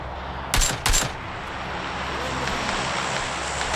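Two sharp bursts of gunfire crack out close together near the start, then fade into a steady low hum of game background noise.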